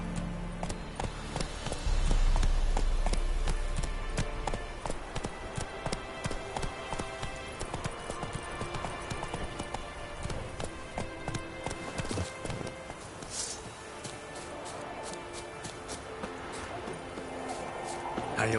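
Hooves of the horse Roach clip-clop at a steady galloping rhythm in The Witcher 3, running continuously beneath game music and talk over the full stretch.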